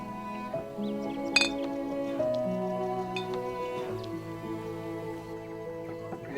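Glasses clink in a celebratory toast, a few bright chimes ringing over sustained tonal background music, fairly close and clear.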